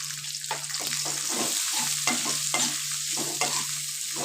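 Onions and green chilies frying in a pan, a steady sizzle under repeated scraping strokes of a spoon stirring at a brisk, uneven rhythm, close and clear with a low background hum.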